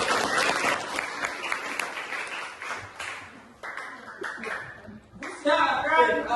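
Elementary students in a classroom clap for a classmate called to the front. The applause is lively and uneven, with light laughter and chatter mixed in, and it rises again at the end.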